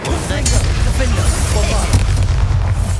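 Incendio fire spell cast in Hogwarts Legacy, a loud deep whooshing boom of flame rolling out and sustained across the moment, heavy low rumble close up.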